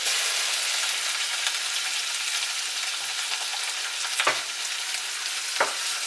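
Mushrooms sizzle steadily in a pan with butter and pasta water, a loud continuous frying hiss broken by a couple of sharp utensil clinks near the end.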